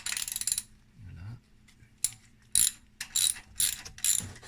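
A ratchet with a 12 mm socket turns a bolt on the EGR valve of a Honda Pilot, giving several bursts of rapid metallic clicking close up, with short pauses between strokes.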